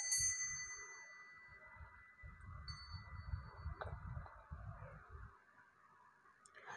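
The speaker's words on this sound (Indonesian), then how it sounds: "lonceng berbunyi." A bright bell-like ding rings out at the start and fades, with a couple of softer chimes later over low rumbling background noise.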